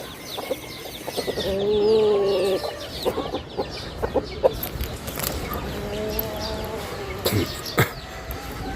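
Chickens cluck and squawk in short repeated bursts at close range on a farm, with one drawn-out call in the first seconds and scattered background noise throughout.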